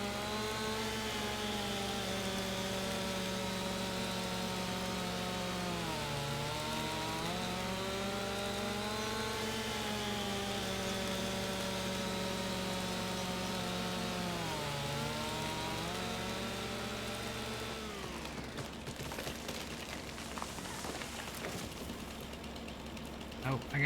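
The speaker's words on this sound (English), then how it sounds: "I'll take them out with a chainsaw." A chainsaw in Farming Simulator 25 drones steadily while cutting trees, its pitch dipping twice under load before the tone cuts off and scattered clatter follows near the end; loud and continuous throughout.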